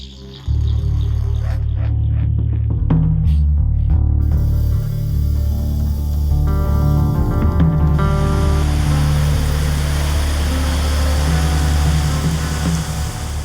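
Continuous rushing water of the Nanaimo River, a broad steady wash heard close and loud for the whole stretch, with a few brief tonal sounds near the start and no speech.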